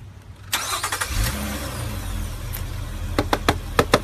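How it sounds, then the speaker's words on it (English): A car engine cranks and catches, turning over with a burst of revving, then settles into a running hum while several sharp clicks or knocks punctuate the end; no talking. "Turn the car on."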